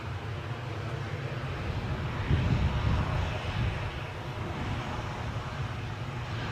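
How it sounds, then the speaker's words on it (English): A Jet2 airliner preparing to line up for departure at Newcastle airport: a distant jet-engine rumble that swells briefly midway, then settles back to a steady, moderate roar. "The Jet 2 Dalaman departure is lining up next, or preparing to line up"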